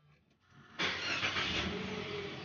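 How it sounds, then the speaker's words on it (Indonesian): A Mitsubishi Xpander's engine cranks and catches, jumping from quiet to a loud, steady close-up idle that holds after starting. "Ini sekarang saya akan nyalakan."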